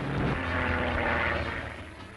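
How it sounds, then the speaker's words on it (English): A 1938-era Supermarine Spitfire fighter flies past with a steady, loud, droning engine roar that swells briefly and then fades slightly. "here's one of the most effective weapons of the air in existence, the Spitfire"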